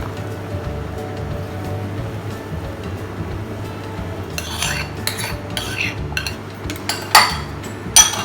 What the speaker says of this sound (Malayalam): ഞാൻ എടുത്ത പാത്രം കുറച്ച് ചെറുതായിപ്പോയി, അതുകൊണ്ട് മിക്സിങ് കുറച്ച് ബുദ്ധിമുട്ടാണ്